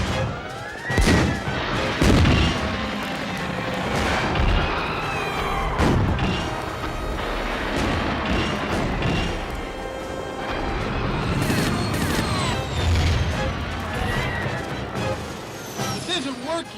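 Heavy gunfire from several weapons aimed at an armored lizard-like creature in a sci-fi monster battle, with dense repeated crashing shots and booms over a steady loud roar for the whole stretch.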